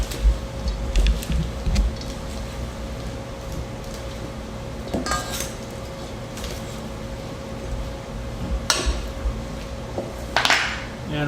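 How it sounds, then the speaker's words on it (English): Marinated artichoke hearts salad with tomatoes being tossed in a bowl, giving scattered light clinks and scrapes of utensils against dishware amid a low steady hum. "Mix this all up."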